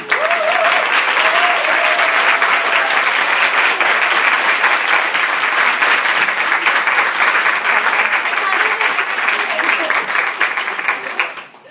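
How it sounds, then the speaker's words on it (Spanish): A conference audience gives Mónica a long, dense round of applause, loud and continuous before fading near the end, with a voice faintly audible early on. "Por favor, un aplauso para Mónica."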